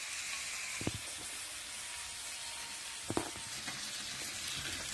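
Gambas shrimp fry in a hot pan with a steady, bright hiss that runs throughout, broken by a couple of soft scraping clinks from stirring.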